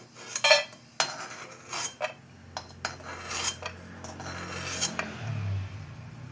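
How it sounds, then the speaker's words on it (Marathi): Roasted cashews and almonds are scooped out of a metal pan, giving a string of sharp scraping and clinking hits with short pauses between them, close by and with no voices. "काजू बदाम भाजून झालेला आहे त्यांना असं काढून घेऊया"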